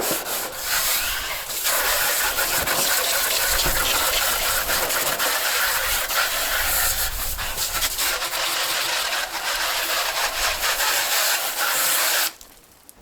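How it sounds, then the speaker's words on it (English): Something is scrubbed down with water to get the dirt off during a mobile home renovation, a loud continuous rough rubbing and swishing that goes on for about ten seconds, then stops abruptly. "Now, I'm just gonna scrub this down."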